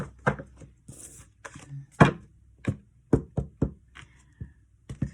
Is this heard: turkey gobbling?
no